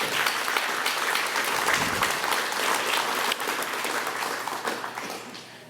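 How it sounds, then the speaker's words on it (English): An audience at a middle school graduation gives students a dense, sustained round of applause, many hands clapping together steadily and loudly before easing slightly toward the end. "let's give a round of applause to the students"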